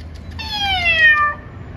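A single drawn-out cat meow, clear and fairly close, with a faint low hum in the background and no talking.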